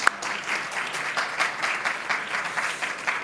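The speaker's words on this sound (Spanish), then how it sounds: "Sí, un aplauso, claro que sí." Audience applause at a conference panel on provincial government, a lively, moderately loud clapping with audible individual claps that rises and falls gently over a few seconds, with no voices over it.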